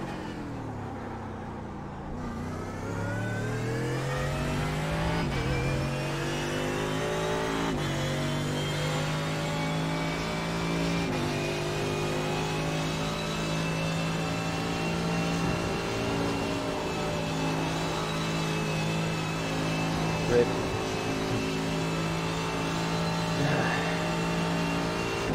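Mercedes AMG GT3 race car engine at Spa in the iRacing sim, a steady sustained drone that rises in pitch through the gears with brief shift dips, loud and alone without talk.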